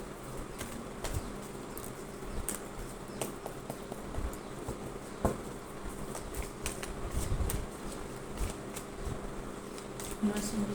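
Tarot cards shuffled by hand at a reading table make a steady stream of soft flicking riffles and taps through the whole stretch, with a faint voice talking now and then underneath.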